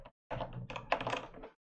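Quick bursts of typing on a computer keyboard with a new layout, a short pause and then a busy run of close, crisp key clacks.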